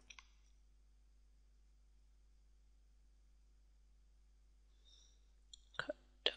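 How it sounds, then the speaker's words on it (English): A few sharp, quiet mouse clicks come near the end, after a long almost silent stretch, with a faint click at the very start. "click go"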